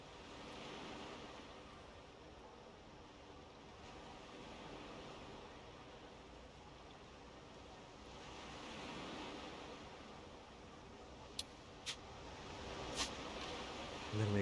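Ocean waves wash steadily throughout, a broad soft surf rumble that swells and eases in long slow cycles, with a few faint sharp clicks near the end.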